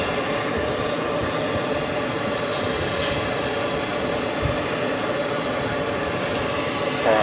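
A KLM airliner arriving from Amsterdam on runway 22 left at JFK gives a steady, loud broadband jet roar that stays even from start to finish, with no voices.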